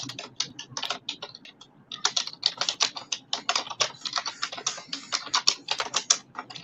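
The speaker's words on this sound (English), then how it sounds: "I'm getting a quieter keyboard." Rapid clattering keystrokes on a loud computer keyboard, close and crisp, in quick bursts with brief pauses, continuing throughout with no voice.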